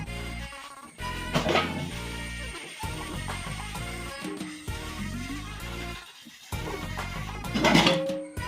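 Dishes, pots and pans being washed by hand, with repeated clanks, scrapes and metallic rings in irregular bursts, close and fairly loud, occasional faint tonal squeaks between.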